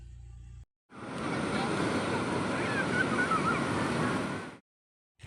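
Sea waves wash onto Kozhikode beach at night, a loud, continuous rushing roar of surf that swells in and holds steady for several seconds, with no voices over it.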